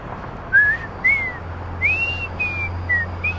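A person whistles a short tune: a series of clear, bright rising and sliding notes in quick phrases, close and solo over a faint low hum.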